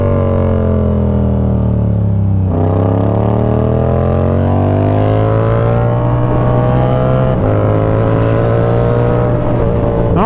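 A Yamaha R7 motorcycle accelerates hard at speed, its engine roaring loud and close with a steady rising pitch broken by a quick dip at a gear change.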